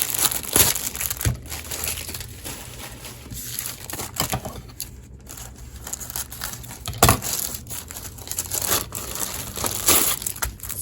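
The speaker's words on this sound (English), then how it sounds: "Maybe I will just take everything out of the packaging" Stationery items from an AliExpress haul are unwrapped from crinkly plastic packaging, giving close, irregular crackling, crumpling and tearing rustles with short sharp bursts throughout.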